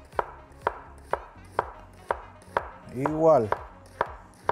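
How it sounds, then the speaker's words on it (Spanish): A knife chopping ginger, garlic and onion into thin julienne on a board: steady, evenly spaced crisp thuds about twice a second, close and clear, with a brief spoken word in the middle. "Ven cómo se desliza el cuchillo sin mayor esfuerzo."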